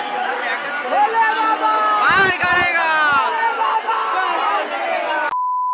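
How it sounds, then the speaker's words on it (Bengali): A dense crowd mills about at Sheoraphuli railway station on the way to Tarakeswar during the second Monday pilgrimage, with steady close chatter and overlapping voices throughout before an abrupt cutoff into a brief tone. "ফাইনালি স্যাবরাপুলির ভিড় দেখছো কত"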